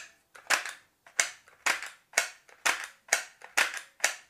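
Plastic black-and-red toy pistol that ejects shells, racked and fired about nine times in a quick, even rhythm of sharp close snaps with no talking.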